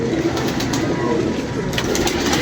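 Pigeons kept by a fancier in Lahore coo softly and steadily against dense outdoor noise, the birds close by and continuous through the moment, with no voices over them.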